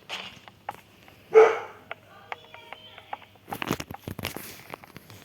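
A small excitable dog barks once, loud and close, in a quiet indoor room, followed by scattered clattering noises and a few brief sharper yips later on.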